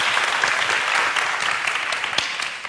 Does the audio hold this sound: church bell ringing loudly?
no